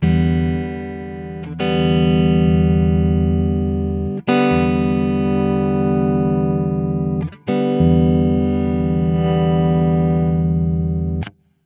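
Electric guitar playing long sustained chords through a preamp, thick and slightly driven, three or four strums each ringing out several seconds, no voices.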